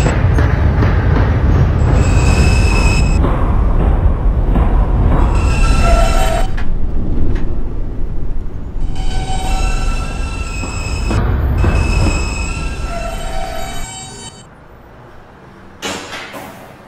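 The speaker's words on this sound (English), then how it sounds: "This is a LaGuardia Airport bound B express train." An R160 subway B express train rumbles loudly along the tracks with steady rolling noise and high squeals, easing off toward the end.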